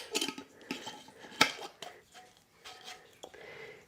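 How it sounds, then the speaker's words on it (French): A jar packed with garlic cloves is closed, its lid clattering and knocking with several sharp clinks and scrapes close by, separated by short quiet gaps. "Je vais fermer le couvercle."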